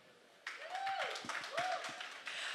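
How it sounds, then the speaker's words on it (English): Applause from an audience at a television series launch press conference, a steady broadband patter of many hands clapping that swells and holds for a couple of seconds with a murmur of voices underneath. "I think that calls for an applause"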